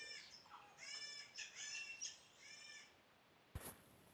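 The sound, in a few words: birds squealing on the fail screen in Angry Birds Real, video game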